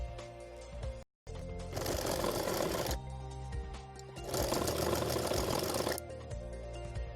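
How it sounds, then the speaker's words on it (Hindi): A sewing machine runs in two long bursts of rapid stitching through saree fabric for a cushion cover, close and steady, with a brief pause and quieter gaps between runs. "तो अब हम सिलाई करते हैं।"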